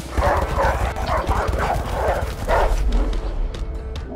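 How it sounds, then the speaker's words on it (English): Dogs bark and yelp during a chase in the video game A Way Out, a loud, steady run of rapid barks with heavy footsteps and rumbling action noise beneath. "Fucking dogs! Are you serious?"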